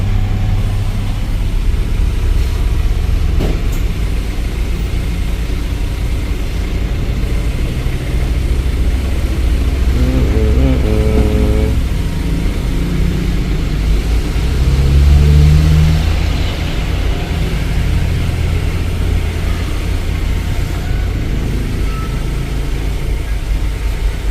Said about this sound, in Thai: เครื่องยนต์ติดแล้วนะครับ